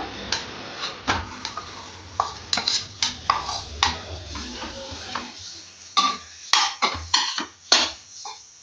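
Dates fry in a spoonful of hot ghee in a pan over a low flame, heard as irregular sharp clicks, taps and scrapes of a spatula against the pan, close and fairly loud, with short pauses between clusters.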